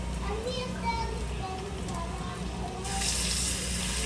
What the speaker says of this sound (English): as I am filling my sink with water